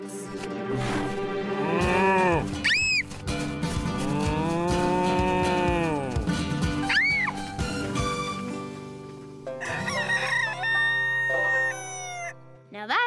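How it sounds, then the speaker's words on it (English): Cartoon cattle in a Little People children's cartoon give long, drawn-out moos, loud and close, with a brief rooster-like crow and a burst of playful music near the end. "Just moo all you want."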